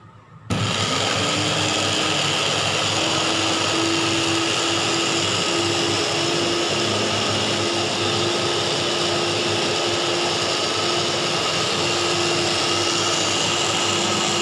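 A blender whirs steadily as it blends aloe vera while making alcohol-based hand sanitizer, starting abruptly and running loud and continuous with a sustained motor drone and no talk.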